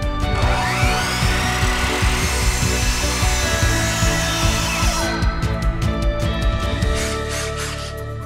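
A power saw cuts through 2x6 wooden boards for faux ceiling beams, giving a loud, continuous rough buzz with a gritty, rasping texture. It runs for about five seconds, then the motor winds down and keeps humming.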